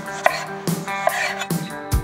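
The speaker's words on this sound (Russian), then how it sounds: "Пускай у вас будет очень острый нож. Чтобы у вас не мялись помидоры, а именно нарезались." A sharp knife slices through yellow plum tomatoes on a cutting board, four crisp evenly spaced cuts each ending in a soft knock on the board, close and clear.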